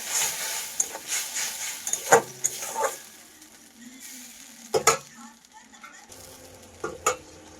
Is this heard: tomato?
yes